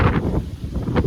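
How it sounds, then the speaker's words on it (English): Low, blustery wind buffeting a microphone, a steady rumbling roar with gusty swells and no talking. "It is so windy today. I apologize for the wind"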